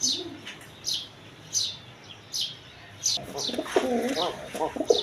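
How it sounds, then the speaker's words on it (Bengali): A pair of Rajgolla pigeons on a farm coo in repeated soft calls about once every second, close by, followed by a busier burst of chirps and cooing near the end. "এইখানে এক পেয়ার রাজগোল্লা কবুতর আছে দেখেন"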